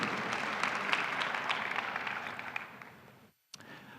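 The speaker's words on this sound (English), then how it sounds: "Let's give them a round of applause." A convocation audience claps for honored guests, a fairly dense burst of applause that thins and stops abruptly, followed after a brief silence by a sharp sound and low room noise.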